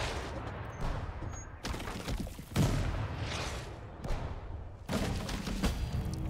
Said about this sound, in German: Vielleicht schieße ich einfach da rüber.